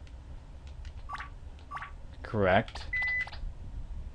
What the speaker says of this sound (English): that's my phone reminding me that I have a message